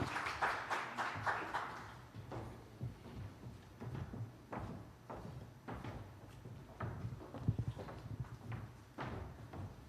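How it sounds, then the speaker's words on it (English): An audience claps after a panel discussion at a fintech talk show event: a burst of fairly dense applause at the start that thins out into scattered, quieter individual claps, heard from a distance in a reverberant hall. "Please clap for us"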